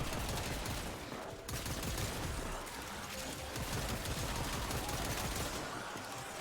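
Weapon fire in the sci-fi shooter Warframe, a dense, continuous barrage of shots at close range filling the whole stretch with only a brief dip, busy and loud throughout.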